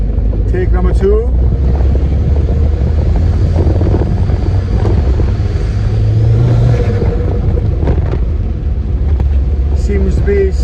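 A turbocharged Ford Escort RS2000 drives with a loud, steady engine rumble and wind buffeting on the microphone, with a voice speaking over it.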